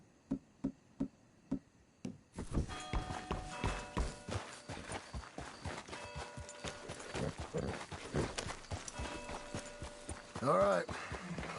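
Horse hooves clip-clop in Red Dead Redemption 2, first as a few separate, evenly spaced thuds, then blending into a dense, busy mix of game sound and dialogue.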